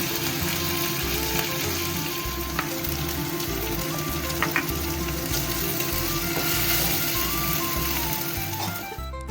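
Tomato frying in a pan with cumin and coriander powder for khichuri gives a steady, close crackling sizzle that runs throughout beneath looping background music.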